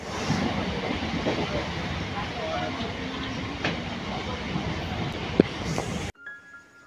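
A train rolling along rails, heard as a steady broadband rumble with faint clatter and a brief sharp click near the end, continuous for about six seconds before cutting to quiet.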